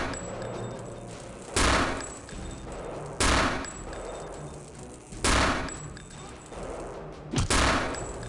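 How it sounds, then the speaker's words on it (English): A World War II gun fired in Return to Castle Wolfenstein, with four loud, close bursts of automatic fire spaced a couple of seconds apart over a quieter game background. "Hear my gun being fired."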